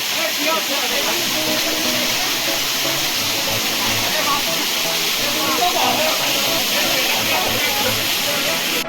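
Chakratirtha waterfall in Keonjhar, Odisha, roaring as a steady, loud broadband rush of falling water that fills the whole stretch without a break, with talk heard under it.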